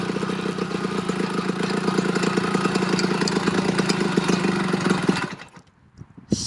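A small engine on a motorized bicycle runs up close with a steady, fast putter of rapid firing pulses for about five seconds, then cuts out abruptly, leaving near silence.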